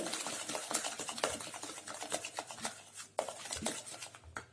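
Cake batter with eggs being mixed quickly by hand in a bowl for a pressure-cooker cake, rapid irregular scraping and clinking strokes, close and fairly loud, with no talk.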